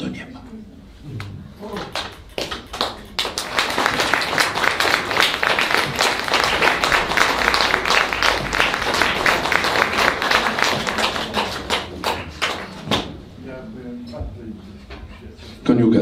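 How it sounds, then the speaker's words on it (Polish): Sustained crowd applause from an audience at a pre-Easter stage event, swelling into a dense, steady wall of clapping for several seconds before tapering off, with scattered voices before and after. "niech wasze brawa polecą do nieba."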